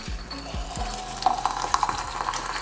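Boiling hot raspberry jam poured into a hot jar, a brief soft sizzle and crackle with a few low thumps of glass and pan at the start, close and quiet.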